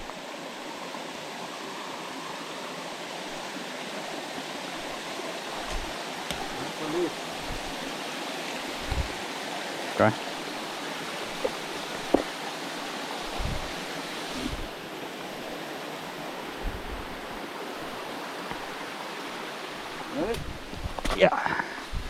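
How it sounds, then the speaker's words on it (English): Steady broadband rush of a waterfall and river stream in the Smoky Mountains, constant and fairly close, with scattered brief knocks and a short spoken word over it. "Está el waterfall de mami."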